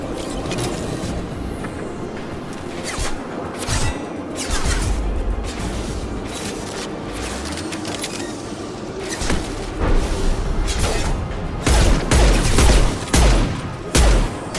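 Rifle gunfire from the sci-fi shooter Mass Effect 2 rattles in loud bursts of rapid shots and heavy impacts, with booms and crashing effects layered over a dense, busy battle soundscape.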